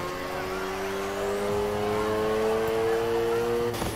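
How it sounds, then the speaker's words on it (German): A car drifting at full throttle in Need for Speed Heat, its engine holding a high, sustained rev with a faint tire squeal, steady and close throughout. "Du driftest."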